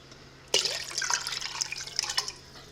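Water from a tap splashes and trickles into a cooking pot for chicken and dumplings, a short close run of bright pouring and dripping after a sudden start.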